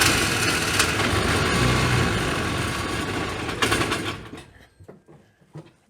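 A Polaris 500 Ranger side-by-side engine, started with the key, running in a rapid, rough mechanical clatter for several seconds before cutting off abruptly, leaving a few faint knocks.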